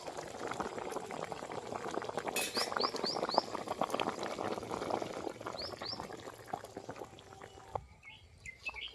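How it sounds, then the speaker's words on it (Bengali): A vegetarian Bengali curry of lentil dumplings and mixed vegetables boils steadily in a pot, making a close, continuous bubbling that eases slightly near the end, with no talking. "এবারে ঝোল ফুটে গেছে"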